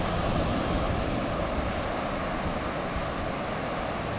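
Ocean waves wash onto a beach at sunrise, a loud continuous broadband roar with no distinct breaks, mixed with wind buffeting close to the microphone.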